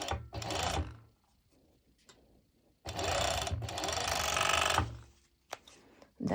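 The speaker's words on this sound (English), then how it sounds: "I'm immediately serging my main fabric" A serger sewing machine stitches mesh lycra fabric in several short bursts of rapid mechanical chatter. The longest run lasts about two seconds, with quiet fabric handling between the bursts.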